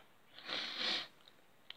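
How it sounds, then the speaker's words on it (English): A single ill person gives one soft, breathy sniff lasting about half a second, close and quiet against near silence, followed by faint small clicks. "I might be sniffing a lot"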